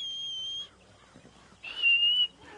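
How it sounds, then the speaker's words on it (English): A player character whistles to call a horse in Red Dead Redemption 2 on PS5, giving two clear, steady whistle tones separated by a short quiet gap, with no talk over them. "By pressing, you can use the whistle."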